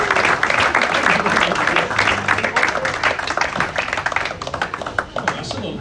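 Audience applause at a local sports club awards evening, with fairly loud, dense clapping running throughout and some talk mixed in.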